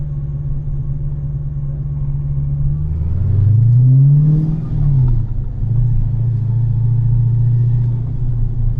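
A Whipple-supercharged 426 Hemi engine, running a tune with a check engine light on, holds a steady idle around 1000 rpm, swells into a loud rev that climbs and falls back, then settles into an even, throaty idle again.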